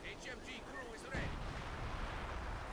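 Artillery gun fire in Company of Heroes during a 4v4 match on the Port of Hamburg map, a heavy low boom that rolls out after a stretch of faint battlefield noise.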